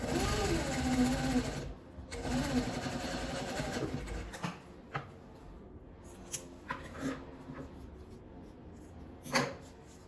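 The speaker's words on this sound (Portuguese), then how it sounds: "vou passar a costura com um pezinho de máquina. Vou costurar até embaixo." A sewing machine runs in two steady bursts for the first four seconds, stitching the front-to-front seam of a small trapezoid zipper pouch, then stops while the fabric rustles and handles lightly click nearby.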